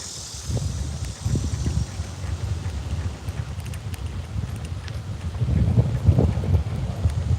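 Wind rushes steadily past the microphone while riding a bike on a hot day, a continuous low buffeting roar that swells a little toward the end, with no voices.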